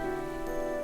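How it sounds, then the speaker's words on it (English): Steady patter of rainfall used as a sound effect in a visual novel game, a continuous even wash of drops over a low sustained musical tone, with no talking. "I try to lose myself in the pitter-patter of the rainfall."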